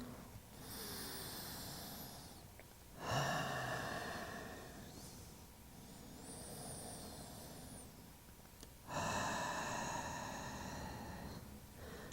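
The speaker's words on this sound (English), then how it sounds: "Take about 2 breaths right here." Slow, deep breathing during a Pilates stretch on a mat, two long inhale and exhale cycles with a soft airy hiss, close and quiet, with no talking.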